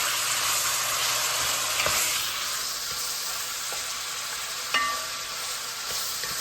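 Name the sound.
bacon frying in a pan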